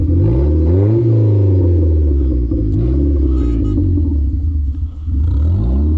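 A wreck-race car engine revs hard and steadily while stuck, rising and falling in pitch with a deep rumble, close by and loud throughout.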